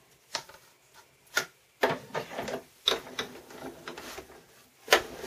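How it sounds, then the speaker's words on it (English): A Spellbinders Grand Calibur die-cutting machine, 8.5 by 11 size, being cranked to feed vinyl through: a series of sharp mechanical clicks and ratcheting bursts at an uneven pace, close and clear with no talk. "This is a Spellbinders Grand Calibur that I'm using."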